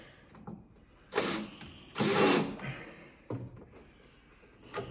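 A screw is torqued with a power tool in three short, loud bursts of whirring, each lasting about half a second to a second, separated by quieter gaps with faint clicks and handling noise.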